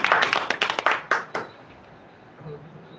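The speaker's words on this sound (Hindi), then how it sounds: "जोरदार तालियों से" Audience clapping to welcome a poet at a Hindi-Urdu poetry gathering, a quick burst of loud, fairly sparse claps that dies out after about a second and a half, leaving quiet room noise.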